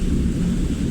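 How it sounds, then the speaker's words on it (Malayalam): Thunder rolls during monsoon rain as a brief, deep, steady rumble that fills the whole moment, with no voices. "ഇടി ഒന്ന് പോയി തരുമോ?"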